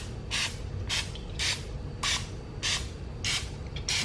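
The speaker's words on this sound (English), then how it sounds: "all we're gonna do is simply just spray" Extra virgin olive oil spray misted onto eggs: six short, even hissing bursts, close and clear, with quiet pauses between each.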